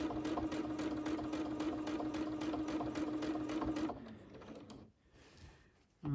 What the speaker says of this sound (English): Do my quilting.